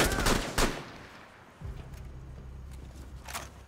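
Gunfire in the tactical shooter Rainbow Six: a couple of sharp shots open the first half-second, followed by a low rumbling hum, with no talk over it.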